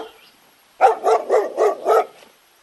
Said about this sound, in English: D for dog.